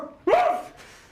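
A person imitates a dog with one loud, close bark-like yelp that rises sharply and trails off, with no talk around it.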